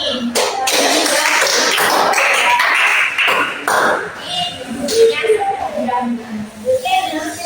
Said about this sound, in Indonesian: coba beri tepuk tangan untuk Ani